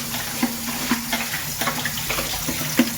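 Water runs from a household tap, splashing steadily into a sink with a few sharper clinks and drips over a continuous rushing flow, fairly close.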